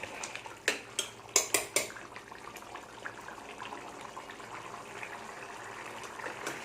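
A spoon clinks several times against a pot while stirring a Kerala potato stew in coconut milk, then a soft, steady bubbling hiss continues underneath.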